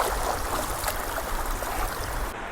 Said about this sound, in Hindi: यहाँ से भी पूरा पानी खेत के अंदर जा रहा है।